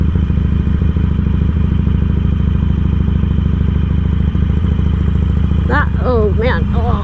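A Harley-Davidson Sportster 883 motorcycle, ridden with mid controls and ape hanger bars, throbs with a loud, steady engine rumble right up close, and a person's voice rises briefly over it near the end.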